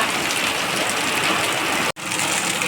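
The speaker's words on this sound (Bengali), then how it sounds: "একদম মুসলধারে বৃষ্টি হচ্ছে" A dense, unbroken roar of heavy rain pours down close by, cut by a split-second gap of silence near the end.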